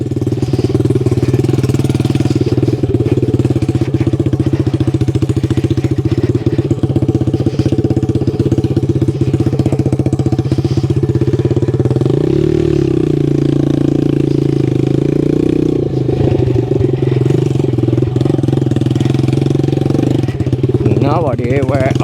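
A 1969 Honda CD90Z motorcycle runs with its muffler removed, a loud, steady open-pipe engine drone holding throughout outdoors in a forestry area, with a brief revving swell partway through.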